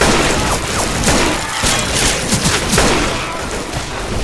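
Heavy gunfire from the Left 4 Dead 2 video game: dense bursts of shots and booms layered into a continuous, loud, chaotic barrage with crashing impacts.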